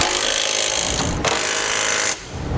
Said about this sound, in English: Next, we'll take 19mm socket,